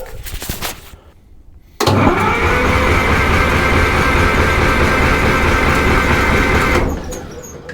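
A Caterpillar D4 bulldozer diesel engine spins over on its electric starter after long disuse, with the clutch disengaged: a loud, steady, close cranking drone that runs for about five seconds without firing, then cuts off.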